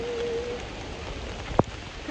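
Heavy downpour rain in Kyiv, a dense, steady hiss of rain striking the surroundings, fairly close, with a brief sharp knock near the end.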